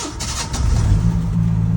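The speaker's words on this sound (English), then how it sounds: "Literally, cold start." A 1986 Ford F150 with the 300 straight-six cranks and catches on a freezing cold start, settling into a steady low rumbling idle, close and alone.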